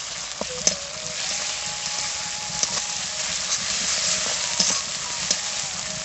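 Ginger-garlic, coriander and dried chilli pastes hit lightly fried onions in a pan for a mutton curry, giving a loud, steady sizzle broken by a few sharp stirring clicks and scrapes.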